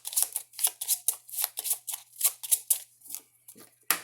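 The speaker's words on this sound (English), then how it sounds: "Shuffle them up." Yu-Gi-Oh! trading cards being shuffled by hand in a rapid, rhythmic series of crisp riffling bursts, about a dozen close-up flicks over a few seconds, with no talking.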